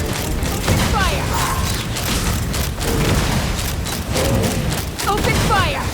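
Cannons fire at monsters in a Genshin Impact battle, a rapid series of loud booms and mechanical clanks that repeat steadily throughout, with short voice fragments heard now and then.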